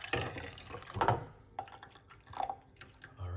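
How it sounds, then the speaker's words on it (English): Hot water poured into a cup, faint trickling and splashing in short irregular bursts, close by and quiet, with no talking. "I'm using hot water to start the process."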